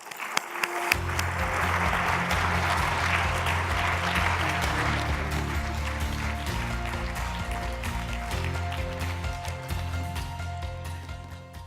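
Audience at a conference closing session applauding as the president, Ann Palmer, is welcomed to the stage: a sustained, dense burst of clapping that rises quickly and then stays steady.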